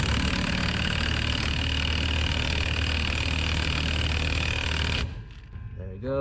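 An impact wrench drives a stud into Ford 5.8 headers on a 1995 Ford Lightning, running as a loud, steady mechanical buzz for about five seconds before cutting off abruptly.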